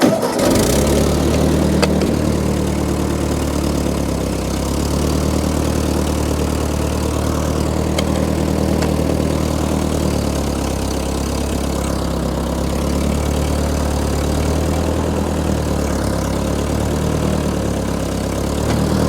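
A Ford 8N tractor engine runs steadily with the power takeoff engaged, a loud close rumbling idle that holds an even, continuous drone throughout with no speech.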